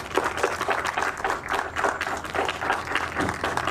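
Audience at an outdoor Wednesday park concert clapping: dense, sustained applause from a crowd that swells and fades slightly in waves, fairly close.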